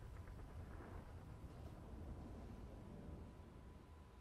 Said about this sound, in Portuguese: Ó, oh, trovão.